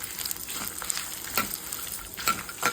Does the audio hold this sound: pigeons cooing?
no